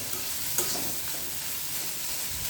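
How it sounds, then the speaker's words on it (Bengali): Small dried fish (shutki) stir-frying in a pan, a steady even sizzle with a faint scrape or two, close and continuous, with no talk. "তো এবার এটাকে আমি কষায় নিব।"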